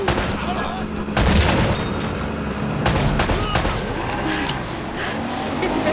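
Gunfire and explosions in the game Uncharted: Drake's Fortune: repeated sharp shots and heavy booming blasts over a busy combat background, with voices mixed in.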